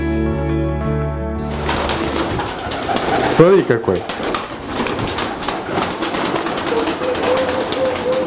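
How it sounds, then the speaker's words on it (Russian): Pigeons at a pigeon-breeding farm coo and call over a steady hum, with a few wing flaps; people talk nearby throughout. "Хозяйство голубиное, где они живут и разводятся."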